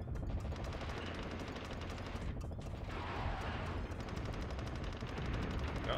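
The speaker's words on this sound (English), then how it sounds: "Oh, we got a tank shooting me in the face." A tank in a 1990s PS1 war game fires at the player amid a constant, dense barrage of rapid gunfire and booming shots, loud and unbroken for several seconds.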